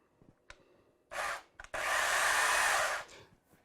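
An electric chainsaw with fresh bar oil, set tension and sharp teeth runs at its single on/off speed: a brief loud burst, a short pause, then a longer, steady, close whine that cuts off abruptly.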